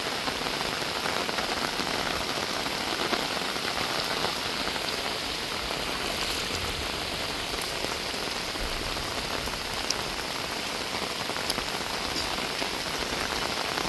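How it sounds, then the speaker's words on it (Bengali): Heavy monsoon rain pours on a village in Bangladesh's haor wetland region, a dense, steady hiss of drops on surfaces continuing unbroken at close range. "বর্ষায় হাওয়ার এলাকার গ্রামে বৃষ্টির দৃশ্য দেখাচ্ছি আমি একেবারে লাইভ দেখাচ্ছি সরাসরি"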